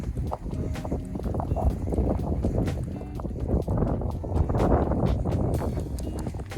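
Gusty wind buffets the microphone with a rough, rumbling roar that rises and falls. Scattered clicks and knocks sound underneath.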